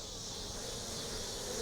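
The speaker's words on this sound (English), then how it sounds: "So these bees are doing some foraging." A soft, continuous buzzing of honey bees foraging at a nuc hive hums steadily at close range, faint and without talk.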